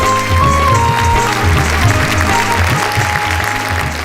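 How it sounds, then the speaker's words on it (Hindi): A TV show studio audience claps loudly and continuously while music plays underneath, a dense steady wall of applause close up. "हम जोरदार तालियों से स्वागत करें।"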